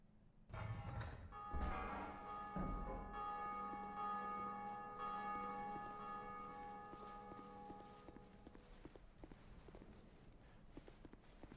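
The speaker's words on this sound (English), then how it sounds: "Bell." A church bell in a video game rings out in a single resonant strike, its tone lingering and slowly fading over many seconds, with faint footstep-like taps underneath.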